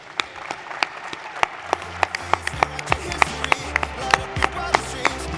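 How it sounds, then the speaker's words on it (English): Audience applause at a CONEXPO event, a steady crowd clapping with sharp individual claps standing out, building slightly and sustained throughout, fairly close and lively. "please put your hands together for Michael Newport"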